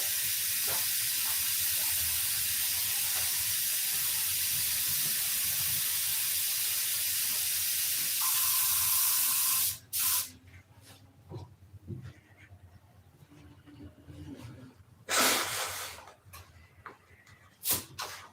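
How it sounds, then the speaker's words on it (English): Thinner sprayed from a can into a box makes a loud, steady, close hiss lasting about nine seconds, then cuts off, followed by scattered clunks and handling noises. "Just spray it into that box."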